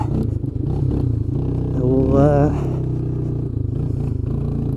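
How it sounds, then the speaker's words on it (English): Small quad ATV engine running at full throttle with a slight bog and sputter, a loud steady low drone with a brief rising rev near the middle, heard up close while riding over rough ground. "There's a little bog, or a little sputter at full throttle with this thing"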